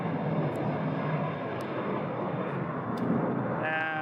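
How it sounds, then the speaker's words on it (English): An Air National Guard KC-135 tanker at Phoenix Sky Harbor Airport gives a broad, steady engine roar from a distance, with a few faint ticks and a brief voice near the end. "And there goes one of our Air National Guard KC-135s."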